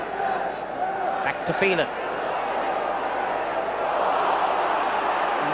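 A football stadium crowd at a Manchester United European Cup Winners' Cup match keeps up a steady broad roar and murmur beneath a commentator's voice, with a short whistle-like burst near the start.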